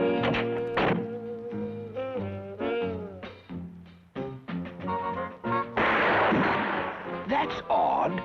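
A cartoon handgun fitted with a silencer goes off with a dull, muffled thunk, set within loud, busy orchestral cartoon music that swells and churns throughout.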